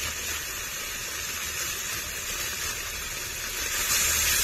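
Ground spices with salt and a spoonful of turmeric fry in hot oil in a pan, giving a steady, close hiss and sizzle that holds evenly throughout.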